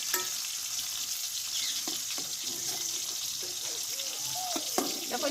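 Pieces of bitter gourd frying in hot oil, a steady close sizzle with a few faint clinks of a utensil stirring through it, no voices.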